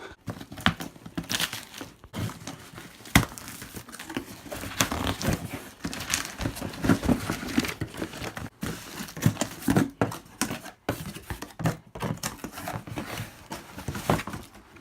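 A shoebox package for Nike sneakers gets cut open, giving a run of scratchy crinkling and tearing noises in uneven bursts, close by and fairly quiet.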